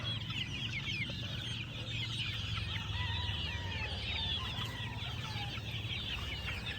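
Chickens cluck continuously in a busy flock, with a rooster-like call now and then over a steady low background hum.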